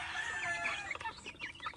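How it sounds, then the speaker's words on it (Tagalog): Small native Bisaya chickens cluck and chirp close by in a backyard flock, a busy run of short overlapping calls with no one speaking. "Yung mga Bisaya nating manok."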